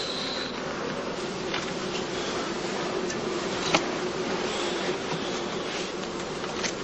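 Honeybees buzz steadily around traditional German straw skep hives, a dense continuous drone of many insects close by with no talk.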